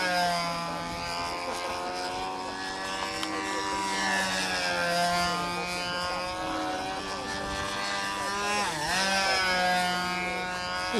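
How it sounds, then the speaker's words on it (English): An electric P-47 model airplane flies, its motor giving a steady, loud buzzing whine with rich harmonics that rises and falls slightly in pitch as it passes, with a brief dip near the end. "I thought we'd try to get a minute or two of him flying his electric P-47."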